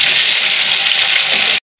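Bitter gourd slices fry in hot oil with a loud, steady, broadband sizzle that hisses without pause, then cuts off abruptly near the end.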